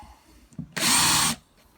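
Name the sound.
drilling a hole in a hose reel with a 3mm bit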